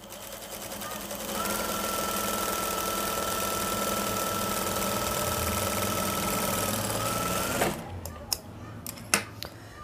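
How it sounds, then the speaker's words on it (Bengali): A sewing machine runs in one steady, continuous stretch as it stitches the side seam of a panjabi plate. It starts after a quiet second and hums and clatters evenly, then stops, and a few light handling clicks follow. "আমি এই সাইডে, একদম সাইডে একটা সেলাই দিব, একদম মুড়ি দিয়ে"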